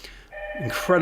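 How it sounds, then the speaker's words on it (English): A telephone rings in a busy bullion office at the end of the day, a short steady electronic ring set against people talking nearby. "To excuse the phone call in the background"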